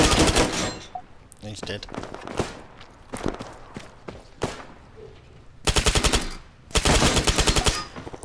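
An HK MP7 submachine gun fires in ARMA 3, loud rapid bursts at the start and again near the end, with scattered shots and thuds between; a voice speaks briefly.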